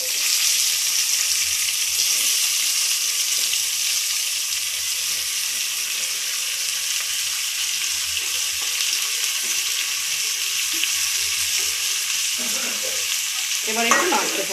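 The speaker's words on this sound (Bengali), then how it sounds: "এবার ওই তেলের মধ্যে গরম মশলাটা একটুখানি জাস্ট গন্ধটা বেরোলে ওই তেলের মধ্যেই পেঁয়াজ, টমেটো আর কাঁচা লঙ্কা আমি একসঙ্গে দিয়ে দেব।" Onion, tomato and green chili frying together in hot oil with garam masala for a chicken and potato curry, a loud, continuous dense sizzle close by, with stirring scrapes near the end and no talking.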